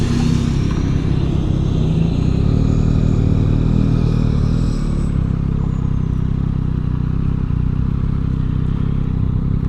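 A Yamaha MT-09 SP motorcycle rides through congested city traffic in Athens, Georgia, its steady engine drone and wind roar continuous and close throughout, with surrounding car noise blended in.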